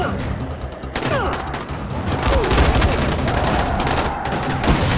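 Rapid bursts of gunfire crackle through a firefight in the zombie survival game Dying Light, with repeated shots and booms layered over a dense, busy background for the whole stretch.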